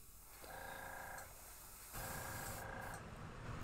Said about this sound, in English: we've sprayed a little bit of metallic white on the underbelly just to keep that shine